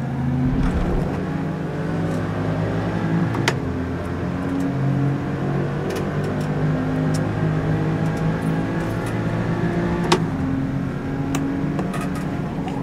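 An Audi RS5 in the Forza Motorsport racing game drones at a steady high engine pitch, with rumbling over kerbs and a few sharp ticks. The sound is loud and continuous, with no talking.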